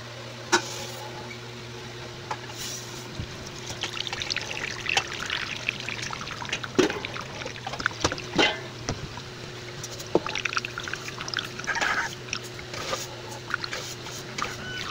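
Fresh coconut milk, squeezed for making coconut oil, trickles and splashes into a container in uneven dribbles, with occasional knocks and handling clatter close by.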